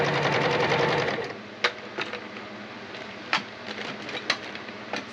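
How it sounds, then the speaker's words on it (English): Sewing machine stitching along the edge of a leather door handle cover for a 2007 Chevy Silverado, with a loud continuous whir that stops early, then sparse sharp clicks and knocks. "I'm just sewing along the edge of the leather."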